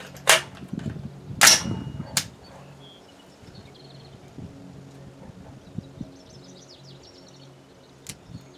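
A rifle firing factory 5.56 ammunition at an outdoor range, with two or three sharp, loud reports in the first few seconds and a further fainter crack near the end, separated by quiet outdoor ambience.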